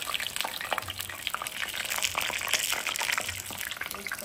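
Pakoras frying in hot oil for a home iftar meal, a steady dense crackle and bubble with sharper pops scattered through, close up and moderately loud, with no talk over it.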